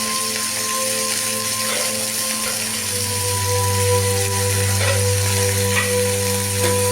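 Chopped onions frying in oil for a potato dish, a steady loud sizzle with occasional scrapes of a spatula stirring, a low hum running underneath throughout.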